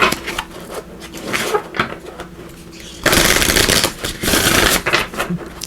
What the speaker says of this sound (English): So there's a couple shuffles here.